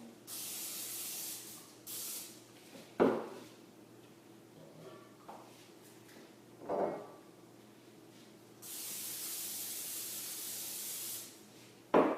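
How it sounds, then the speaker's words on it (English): A can of cooking spray coats cake pans for a vanilla cake in several separate hissing bursts, some short and some long, with quiet pauses and soft handling clatter between them, close by and without talk. "you're just going to give your pans a really nice coating of the spread, just so the cakes do not stick to the pan"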